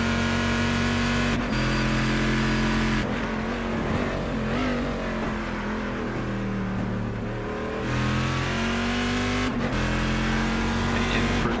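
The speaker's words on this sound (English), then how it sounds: "Love the sound of the Corvette, one of the best sounding GT1 cars" A Corvette GT1 race car engine in a racing video game roars loudly and continuously at Interlagos, revving up through gears with sharp drops between shifts, then climbing again.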